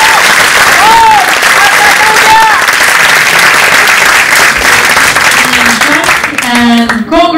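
A loud, continuous round of applause fills a hall at a university graduation ceremony, with cheering voices and a few whoops rising above the clapping toward the end.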